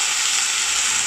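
Chicken shashlik sizzles steadily in a hot pan at home, a loud, even hiss that fills the short moment with no voices.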